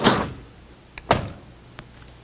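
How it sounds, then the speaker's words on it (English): The entry door of a 2008 Coachmen Sportscoach Elite Encore 40QSM motorhome pulled shut, one solid thud followed by a couple of small latch clicks, close and with no speech. "I'm gonna shut all this door and get back."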